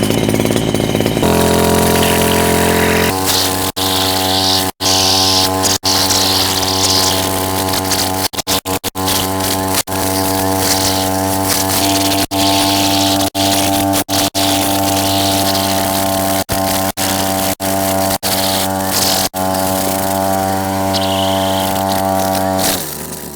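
A Maruyama MBS320V brush cutter's small two-stroke engine catches after a recoil pull and runs loud and close, a steady buzzing drone with a few sharp clicks and dips as the throttle holds.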